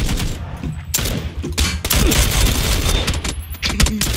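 Rapid bursts of gunfire from PUBG, close and loud, with sharp shots and thuds packed densely across the whole stretch and little room between volleys.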